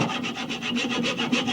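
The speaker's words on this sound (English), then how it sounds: "here is where the hacksaw comes in, because if you line it up across the end and start cutting" Hacksaw cutting a slot across the end of a homemade dart body clamped in a vise: close, rhythmic rasping strokes, about eight quick back-and-forth pulls in a second and a half.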